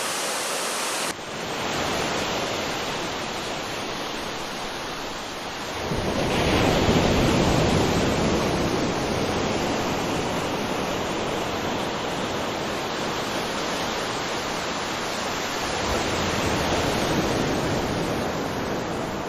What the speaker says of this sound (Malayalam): ഖനനത്തിന് ശേഷം ഒഴുകി വരുന്ന വെള്ളമാണ് വെള്ളച്ചാട്ടമായി രൂപപ്പെട്ടത്.